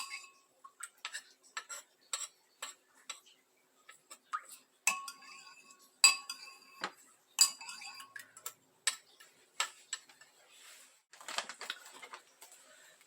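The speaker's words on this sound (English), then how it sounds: "I'm going to scrape this off the bottom of this pestle" A metal utensil scrapes and taps garlic off the bottom of a pestle, a series of sharp, close clinks and scratches in an irregular rhythm, quiet between strokes, with no talking.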